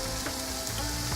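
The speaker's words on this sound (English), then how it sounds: "Once that heats up, just add your onions." Onions frying in hot olive oil in a pot for an Iranian celery stew, giving a steady, dense sizzle that runs continuously without talk.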